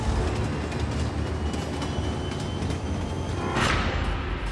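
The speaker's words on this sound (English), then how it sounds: "The Polar Bear Express is bearing down on them." The Polar Bear Express passenger train runs through frozen Canadian Arctic wilderness, a steady, loud rolling rumble of rail cars on track with a brief rising hiss near the end.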